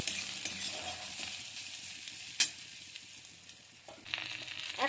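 Whole cumin and grated ginger crackle in mustard oil in a pan, a continuous near sizzle broken by stirring scrapes and one sharp utensil knock midway.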